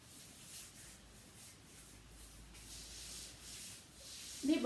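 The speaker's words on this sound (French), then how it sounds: "Frottez les poignets." Hands rub the wrists during a self-massage exercise, making a faint, soft friction swishing in slow repeated strokes in a quiet room.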